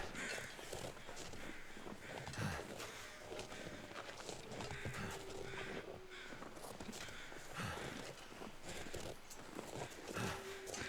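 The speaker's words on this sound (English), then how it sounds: "So there's the crows that were above Dave." Crows caw in The Long Dark video game, a few scattered calls fairly distant under steady wind and crunching footsteps on snow.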